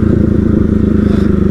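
A motorcycle being ridden gives a close, steady, throbbing engine drone with a regular pulsing rhythm and no speech.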